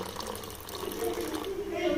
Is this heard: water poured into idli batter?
yes